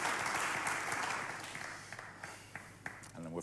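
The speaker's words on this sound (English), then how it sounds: "Please, a round of applause for everybody." Studio audience applause on a New Year's Day episode of Who Wants to Be a Millionaire, starting loud and dense, then thinning and fading into scattered claps over a few seconds.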